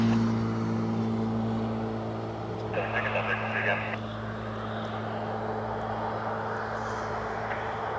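A Southwest airliner moves onto the runway at Cleveland Hopkins airport, heard as a steady, distant jet rumble that holds throughout, with a brief muffled voice partway through.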